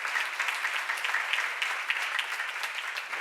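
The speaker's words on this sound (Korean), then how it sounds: "박수로 하세요." A church congregation applauds during a seminar, steady dense clapping heard at a moderate distance, continuous throughout without talk over it.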